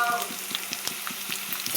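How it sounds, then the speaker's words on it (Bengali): Potatoes and pointed gourd frying in a pan with onion, chili and garlic, a soft continuous sizzle broken by regular light stirring clicks, close and moderately quiet. "আলু পটল ভাজা ভাজা হয়ে গেছে।"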